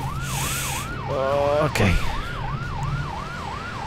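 A fire truck siren wails in a steady up-and-down pattern throughout a scene in the driving game Driver San Francisco, with brief engine and crash noises midway and a short spoken word.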